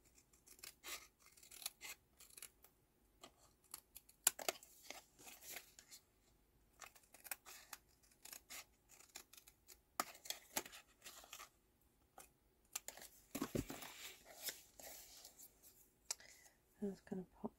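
Scissors snipping die-cut card pieces apart for cardmaking, a close, irregular series of crisp cuts and paper rustles with brief pauses, a voice talking quietly now and then.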